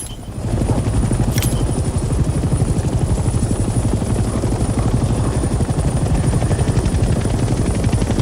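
A helicopter in the Vietnam-era war game Hell Let Loose Vietnam flies steadily, its rotor producing a loud, fast, continuous chopping thump over a droning engine hum, with a brief sharp click near the start.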